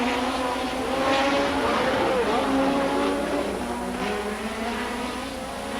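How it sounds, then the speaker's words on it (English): Race cars roaring along the Trois-Rivières street circuit during a 1982 Trans-Am, Formula Atlantic or Can-Am race, a loud sustained engine drone with shifting pitch as cars pass, continuous throughout under a commentator's voice. "There's McMillan lining up Gans for a pass in the short straight to corner number 2"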